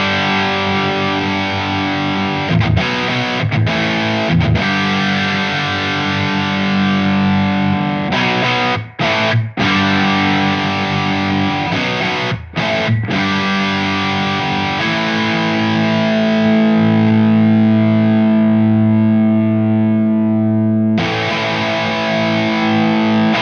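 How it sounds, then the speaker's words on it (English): Electric guitar played through a Wampler Pantheon overdrive pedal set to hard clipping, giving a loud, sustained distorted tone of ringing chords and held notes with a few brief breaks, played alone. "taking the overdrive voice up from the bottom to the top position will kick us from soft to hard clipping"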